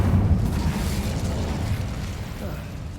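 Incendio fire spell blast in a Harry Potter video game: a loud, sustained rumbling burst of flame that holds steady for a few seconds, with a voice faintly audible beneath.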